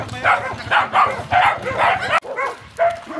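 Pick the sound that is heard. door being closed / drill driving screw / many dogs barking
many dogs barking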